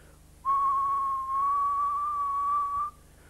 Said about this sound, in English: That's because whistling is a much more even sound.